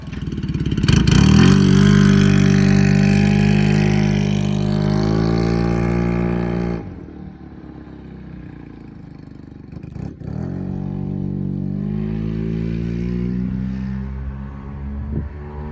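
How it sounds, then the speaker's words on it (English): A 1978 Honda CB400A motorcycle being ridden, its engine revving up strongly with a rising harmonic whine, then easing back to a lower steady drone with a further rev near the end, close and loud. "let's lower this bike down and we'll take it for a little ride"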